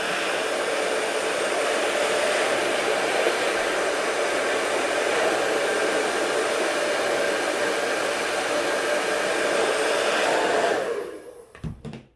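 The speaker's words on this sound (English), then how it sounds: "Just go ahead and grab your blow dryer if you have one." Continuous roar of a hair dryer heating a vinyl decal on plastic, blowing close and steady for several seconds, then cutting off abruptly with a few clicks near the end.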